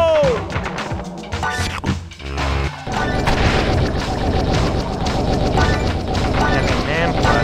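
A loud crash and explosion in the PS1 platformer Gex, in the Sumo City level, booming under game music and character voice lines, followed by a dense sustained rumble.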